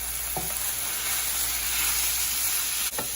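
Broccoli stems, celery, carrots and onions sizzle steadily in a pan, with a broad constant frying hiss and two brief stirring clatters near the start and end, no talk.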